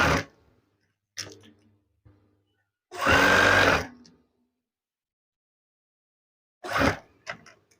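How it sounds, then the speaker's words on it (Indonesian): A sewing machine stitching curtain fabric in a few separate spurts: a short whir, a louder sustained run of about a second, then another brief burst, with quiet gaps between. "Anda perhatikan cara saya menjahit."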